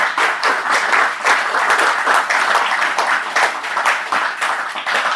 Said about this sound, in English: I'd like everybody to first give our panel another round of applause.